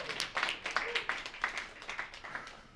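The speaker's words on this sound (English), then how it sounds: "give yourselves a round of applause for that" A small audience at a spoken word poetry performance gives a round of applause; scattered, distinct claps sound fairly faint and distant, tapering toward the end.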